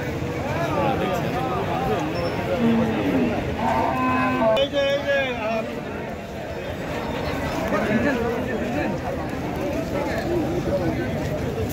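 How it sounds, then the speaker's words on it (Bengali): Cattle at a crowded Qurbani livestock market in Taherpur, Bagmara, Rajshahi. A few drawn-out moos rise above constant crowd chatter, and people talk nearby throughout. "দর্শক আপনারা দেখাচ্ছি বিভিন্ন জাতের গরু"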